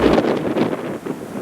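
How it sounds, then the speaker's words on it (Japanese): Strong night wind buffets a balcony on the Jumbo Ferry Aoi sailing from Kobe, a loud, steady roar of gusts battering the microphone. "風がかなり強いです。"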